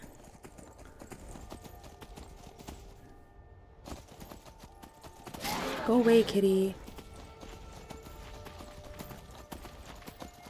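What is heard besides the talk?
horse hooves while riding in video game Skyrim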